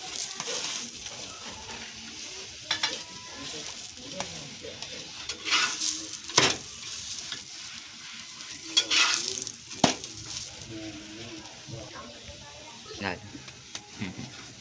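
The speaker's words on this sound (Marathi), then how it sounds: "तेल लावून अगदी खमंग असं भाजून घ्या।" Koki flatbread roasting in oil on a hot pan gives off a soft steady sizzle, with occasional scrapes and pops as it is turned, beneath a voice explaining as she cooks.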